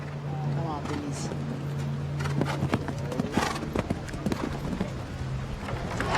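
A show-jumping horse at a Grand Prix jump-off, with a rhythmic run of hoofbeats on the arena surface under a commentator's continuous talk, crowd and arena noise behind.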